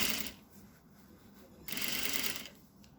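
A sewing machine stitches a princess seam in fabric, running as a steady, close mechanical whir that swells louder for a stretch near the end before easing off, with no talking.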